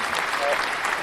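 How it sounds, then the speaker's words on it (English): Studio audience applause, a brief wash of many hands clapping heard as a steady crackle. "Round of applause, Conan O'Brien."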